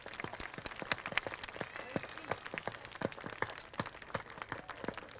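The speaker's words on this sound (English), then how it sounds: "Let's give them another round of applause, please." Applause for veterans at a Memorial Day gathering: sparse, uneven hand claps from a modest crowd, each clap sharp and distinct, moderately near and fairly quiet, with no talk over them.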